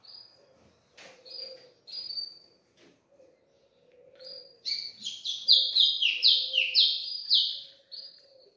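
A white-throated seedeater sings nearby, sparse chirps at first, then a rapid run of bright, descending trilled notes.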